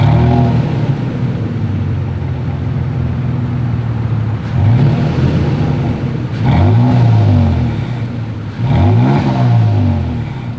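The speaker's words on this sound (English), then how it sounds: "As always, here is that exhaust clip." Exhaust of a 2023 Toyota Tacoma pickup truck revving hard several times, with loud rising and falling engine sweeps over a steady idle rumble and no talking.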